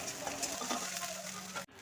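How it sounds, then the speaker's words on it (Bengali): Onion paste frying in oil after a black cumin tempering, for a mustard katla fish curry, gives a steady close sizzle with soft stirring scrapes that cuts out abruptly near the end. "2 চামচ পেঁয়াজ বাটা দিয়ে তেলের সঙ্গে ভালো করে ভেজে নিচ্ছি"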